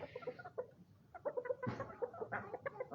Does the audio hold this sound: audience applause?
no